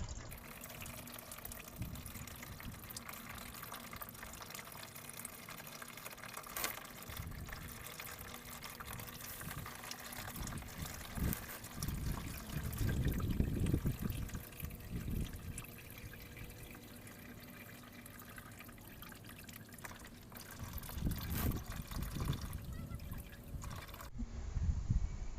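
Engine oil from a Ford F-150 running into a drain pan during an oil change, a faint steady trickling and pouring that swells a little midway and again near the end.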